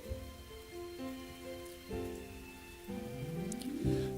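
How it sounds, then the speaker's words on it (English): Soft rain falls at the opening of a song recording, a steady patter that runs beneath gentle musical tones which swell in toward the end. "so it begins with a little bit of rain sound"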